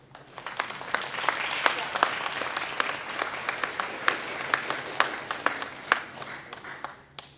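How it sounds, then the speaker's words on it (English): A crowd applauds at a beginning band spring concert at HSMS middle school, with dense, loud, sustained clapping and sharp individual claps standing out close by. "Give yourselves a huge round of applause."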